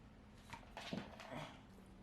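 Zeus, an eight-month-old dog, whimpers and yips softly as he strains to bark on command: a few short, faint, high whiny cries close by over quiet room noise.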